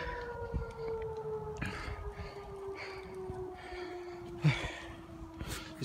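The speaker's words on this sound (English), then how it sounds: "The sirens are going off because," Sirens wail continuously near a trailer park fire, with a steady, slowly falling tone heard from a distance. Faint outdoor noise and a brief thump accompany it.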